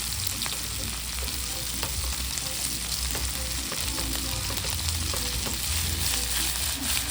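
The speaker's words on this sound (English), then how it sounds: "I'm gonna start to fry my chicken right away" Chicken frying in a skillet while being stirred: a steady, dense sizzle with scattered crackles and occasional scrapes of a utensil, close and constant throughout.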